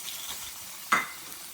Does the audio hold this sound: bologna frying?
yes